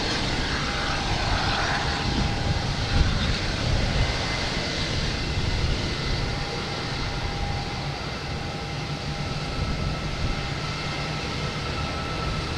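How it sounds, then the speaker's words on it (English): A United Airlines Boeing 737 MAX 9 takes off at Boston Logan Airport with a loud, sustained jet roar and faint steady tones, with no one talking over it. "United Airlines taking off, a 737 MAX 9"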